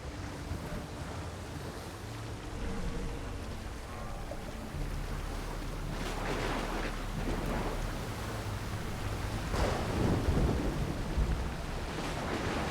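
A video-game thunderstorm at sea around a sailing boat: a continuous roar of rain and waves with heavy rumbling thunder that swells in the middle and again near the end, with no voices.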